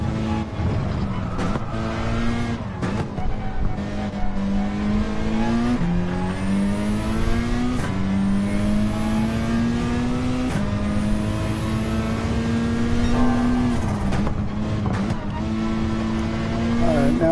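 Race cars in Gran Turismo 7 on the Sardegna road track, engines droning and rising steadily through gear changes as the pack runs close together, loud and continuous throughout.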